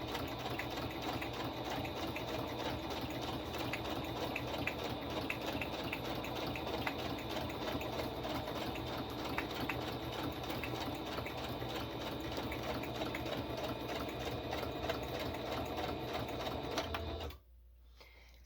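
A sewing machine stitches steadily up close as journal signatures are sewn and backstitched, its rapid needle chatter running continuously for about seventeen seconds before stopping abruptly into near silence.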